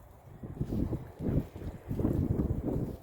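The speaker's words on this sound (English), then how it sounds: "The wind's getting worse." Strong gusting wind during a Texas ice storm buffets the microphone in heavy low rumbling surges, rising and falling several times, with no voices.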